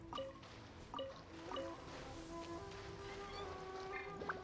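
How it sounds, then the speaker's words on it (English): Watery sound effect of a video game character rolling, a series of soft wet drips and squishy splashes in quick irregular bursts, quiet and close, with faint pitched tones running underneath. "The sound effect's a little off-putting of her rolling with water."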